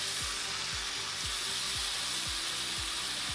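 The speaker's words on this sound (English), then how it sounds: "you can go ahead and drop your steak in. It's sizzling, so you know it's working." Ribeye steak sizzling and frying in a hot pan, a steady loud crackling hiss running throughout with faint repeated low scraping or stirring knocks underneath.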